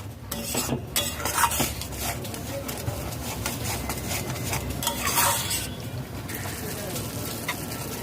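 A spoon scrapes and stirs spices with a teaspoon of cumin powder in a pan over low-to-medium heat for Afghani malai seekh kebab, with a soft sizzle and repeated close scraping clinks.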